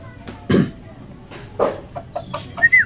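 Brassback gamefowl clucking in short, separate bursts, close and fairly loud, with a higher squawk near the end and quiet background noise between calls.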